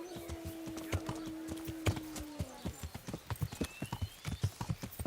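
Horse hooves clip-clop at a steady walking rhythm in the medieval game Kingdom Come: Deliverance, close and clear, with a brief neigh-like tone early on.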